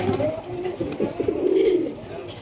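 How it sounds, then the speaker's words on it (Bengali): A pair of Turibaj pigeons cooing close by, soft low rolling coos repeating in short bursts over a quiet background. "খুবই ভালো মানের একজোড়া তুরিবাজ কবুতর"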